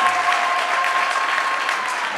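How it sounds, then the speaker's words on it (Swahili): A church congregation applauding a visiting preacher, a loud, sustained wash of many hands clapping at once, steady and close throughout. "Makofi haya yanaashiria kwamba watu wanasikia ungefika tena ili kuwabariki neno la Mungu"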